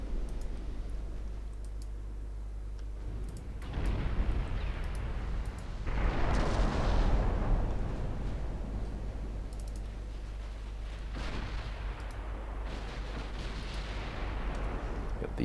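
Naval artillery fire in a warship battle game: heavy booming salvos roll out in several long rumbling waves over a constant low engine drone, with faint clicks and a voice speaking in places.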